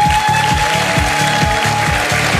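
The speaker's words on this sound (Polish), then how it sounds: "Wielkie brawa." A game show audience applauds loudly in a television studio, the clapping carried over a steady rhythmic musical beat, with no speech.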